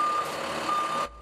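A PennDOT truck reverses at a rock salt maintenance yard in Nicetown, its backup alarm sounding as a steady, loud electronic tone over engine rumble before cutting off abruptly.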